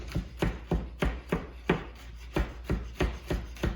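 A knife chops garlic on a cutting board for a pasta dish, giving about a dozen crisp, fairly quiet taps in an uneven but steady rhythm, close up with no talking.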